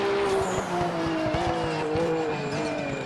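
A race car in the sim racing game RaceRoom, its engine whining steadily and shifting pitch as it slows under braking. Rapid low pulsing runs through the whole stretch, with no talk.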